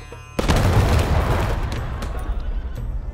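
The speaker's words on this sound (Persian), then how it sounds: "سربازها شروع به تیراندازی کردند." Soldiers open fire in a historical drama film about the Bab, a sudden loud volley of gunshots followed by a rapid crackle of further shots that gradually thins out.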